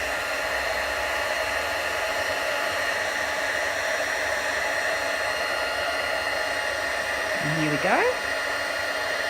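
A heat tool melts embossing powder with a steady, loud hot-air roar throughout, close by, with a brief voice speaking near the end over the blowing.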